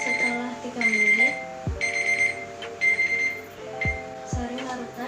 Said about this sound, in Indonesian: Itu menggunakan timer.